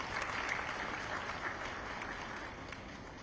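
Applause fills a tax policy conference hall in Uganda as the audience claps in a dense, steady wash, heard at a distance and fairly faint.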